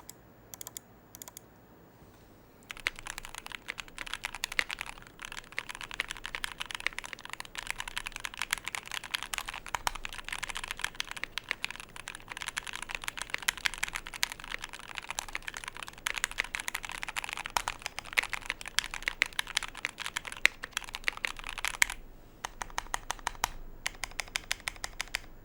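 Steady, rapid clacking of mechanical keyboard keys being typed on, fairly close and continuous for most of the stretch, with a brief quiet start and pause near the end.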